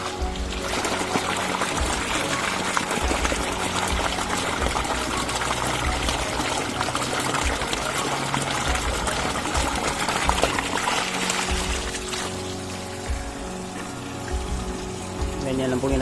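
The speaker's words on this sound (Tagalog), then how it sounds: "nagbabawas ako ng tubig nila." Water pours and trickles steadily as it drains from a tank holding catfish, a continuous wet rush that carries on for the whole stretch and eases slightly toward the end, with no talk over it.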